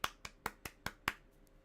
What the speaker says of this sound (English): I'll give it a light applause.